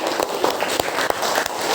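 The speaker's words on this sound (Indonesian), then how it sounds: "tepuk tangan untuk kelompok 1" Classroom of students clapping for a group, a dense, lively patter of many hands, close and fairly loud, lasting briefly.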